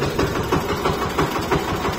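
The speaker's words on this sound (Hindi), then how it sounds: "आगे पीछे से ट्रैक्टर आ रहे हैं" A tractor engine chugs steadily on a narrow village road, its loud, rhythmic low rumble continuing without any talk.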